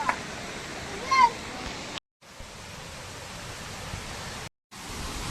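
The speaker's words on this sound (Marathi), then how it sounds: "हा बघा निसर्गरम्य असा धबधबा" Ranpat waterfall in the Konkan region roars as a steady broadband rush of falling water, loud and continuous, broken by two brief cuts to silence.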